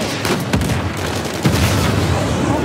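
Gunfire from a shooting sequence in Uncharted 4: A Thief's End, a dense run of loud shots and booms with sharper bursts near the start and middle over continuous game noise.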